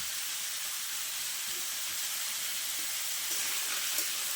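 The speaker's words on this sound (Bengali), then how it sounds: "আলুগুলো একটু নাড়াচাড়া করে ভেজে নেব" Potatoes fry in hot oil with salt and chilli powder while being stirred in a pan, giving a steady, close hiss and sizzle with faint scrapes underneath and no voices.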